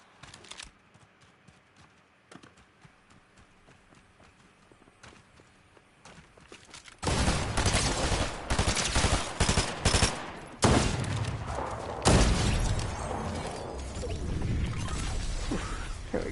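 Gunfire in Fortnite, quiet scattered shots at first, then a dense, loud stretch of rapid close-range firing with overlapping bursts and impacts lasting to the end.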